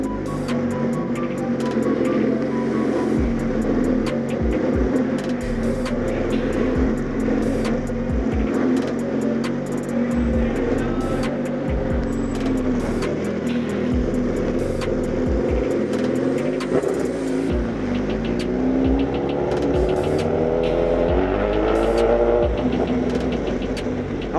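A modified supercar's engine drones steadily and loud throughout, with rising tonal sweeps as it gains speed; people's voices occasionally sound over the engine.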